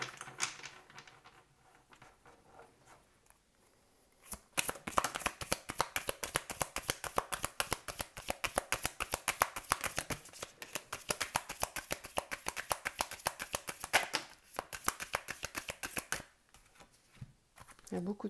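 Tarot cards shuffled by hand during a card reading, producing a long run of rapid, crisp riffling flutters at close range, starting after a quieter opening.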